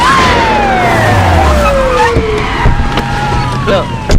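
A police car siren wails in a Hindi-dubbed film scene, with loud descending sweeps over a rumbling traffic and street background.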